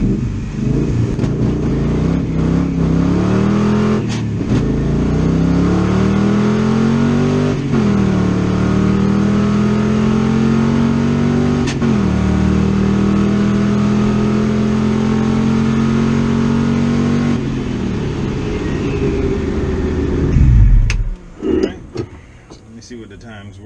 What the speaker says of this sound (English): I'm going to pull on track and try to run this quarter mile again.